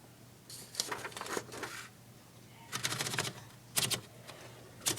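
A Smith Carolina typewriter being typed on in quiet bursts of rapid key strikes, clustered in a few short runs with pauses between, fairly faint and close, with no talking.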